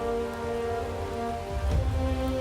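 Steady rain patters on surfaces in a tabletop roleplay scene, a continuous even hiss with a low rumble building briefly near the end, heard alone without voices.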